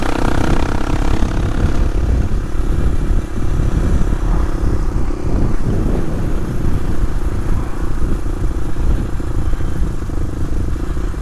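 A Suzuki DR250S motorcycle fitted with a Dominator R exhaust runs loud and steady up close, a rough, throaty drone that holds for the whole stretch without any voices.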